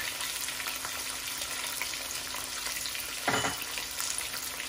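Potatoes with salt, crushed chili and dried coriander fry in a pan, producing a steady mid-level sizzle with a short burst of stirring or scraping near the end.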